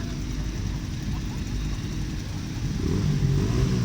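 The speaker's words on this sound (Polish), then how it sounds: "Tym razem Mikołaje na motocyklach." Motorcycles ridden by people dressed as Santa Claus rumble as a low, steady engine drone with a broad noisy roar that swells toward the end, heard outdoors among crowd noise.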